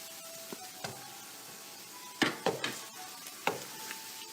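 Tomatoes tipped into garlic ginger paste frying in a pan, a soft steady sizzle broken by several sharp clinks and scrapes of a utensil against the pan.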